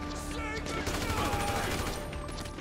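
Automatic rifle fire from an M16A4-style assault rifle in the GTA 5 video game, a dense sustained fusillade of rapid shots under a busy mix of game sounds, steady and loud throughout.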